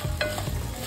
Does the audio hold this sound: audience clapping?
no